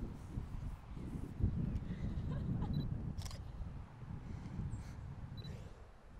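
A single-lens reflex camera fitted with an 18-55mm kit lens fires its shutter during a portrait shoot, giving a few sharp, isolated clicks over a quiet room tone.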